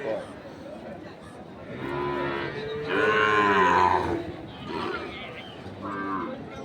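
Cattle mooing at a livestock market where Sahiwal bulls and calves are sold: several long, deep moos, one loud and close near the middle, with market chatter around them.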